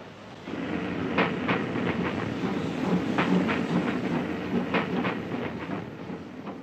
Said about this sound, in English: The Coronation Scot is one of five streamlined locomotives designed to draw the new air-conditioned luxury train